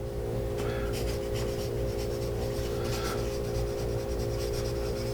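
A carpenter pencil with a dark core scratches across a surface in short strokes, soft gritty rubbing heard over a steady low hum of background noise.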